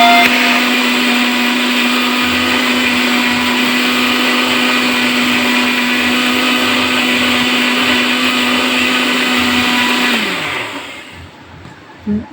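A mixer grinder grinds soaked ragi into neer dosa batter, a loud steady high whine running continuously before the motor winds down and stops near the end.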